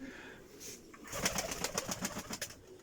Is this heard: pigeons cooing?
yes